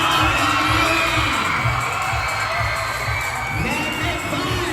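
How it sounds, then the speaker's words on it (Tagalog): A large crowd at a mall event claps and cheers loudly, with shouts and whoops layered over a thick, continuous roar and a low rhythmic thumping beneath it. "magpalakpakan na may kasamang hiyawan"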